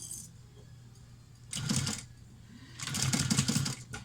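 A domestic sewing machine stitches a vinyl backpack held in an embroidery hoop, in two close rapid mechanical runs of chattering stitches with a steady motor hum beneath.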